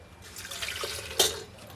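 Water is poured into a jug holding small chunks of ice for a homemade jaggery drink, a short splashing trickle with a brighter splash burst midway.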